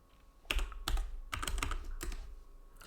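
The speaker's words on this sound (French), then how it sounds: "Je tape carbonara." Several crisp bursts of keystrokes on a computer keyboard, close and fairly quiet, with short pauses between the clusters of clicks.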